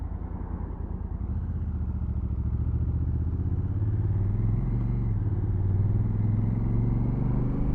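A Honda CRF1000 Africa Twin motorcycle engine with stock exhaust rumbles steadily at close range with a deep, even exhaust note, throttle rising slightly toward the end.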